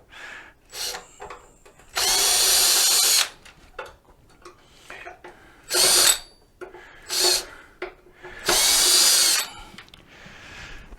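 A cordless power drill backing out the four cover screws on a Golden EX transaxle controller, with four loud whirring bursts of about one second each separated by quieter clicks and handling noises, close up.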